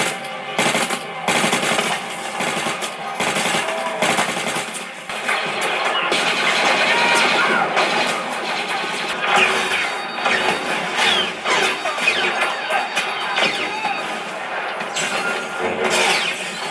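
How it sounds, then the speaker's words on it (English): Video game gunfire plays through budget gaming speakers: dense, continuous automatic fire and crashing impacts, loud and unbroken throughout. "Here's a clip of what these things sound like in-game."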